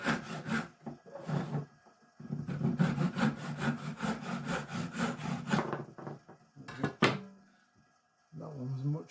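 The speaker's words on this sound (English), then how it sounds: "this is the cross-cut saw that we sharpened the other day" Sharpened cross-cut hand saw cutting through a wood board, rhythmic rasping strokes in quick repeated bursts, close and fairly loud, pausing briefly and then resuming, with someone talking at times.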